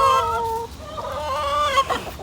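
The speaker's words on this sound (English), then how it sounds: "Chickens are out and ready to go for the day." Backyard hens let out in the morning cluck and squawk close by, with several rising and falling calls overlapping in a short burst.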